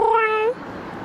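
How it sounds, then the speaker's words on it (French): A cat gives a single clear, drawn-out meow up close, fading out after about half a second into quiet room noise. "il y a un chat qui s'exprime"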